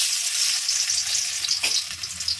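Chopped garlic sizzles in hot oil with dried red chillies, a steady, close, bright frying hiss that holds evenly for a couple of seconds with a brief stir near the end.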